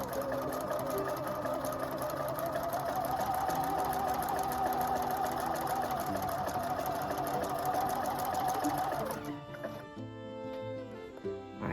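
A Husqvarna Viking sewing machine stitches tiny stitches in a steady, fairly quiet mechanical whir with a rising hum, then stops abruptly, leaving softer clicks and handling sounds.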